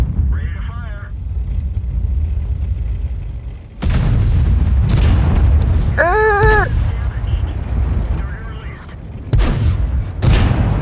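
A Kanonenjagdpanzer tank destroyer's gun in the video game World of Tanks fires several heavy, booming shots over a rumbling engine, with other cannon blasts and brief warbling game tones between them.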